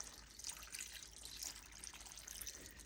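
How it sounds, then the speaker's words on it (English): Beef bone broth pouring steadily into a pot set to sear/sauté for beef stew, a soft continuous liquid splashing and trickling, fairly faint and close, with no talking. "Okay, the beef bone broth is going in."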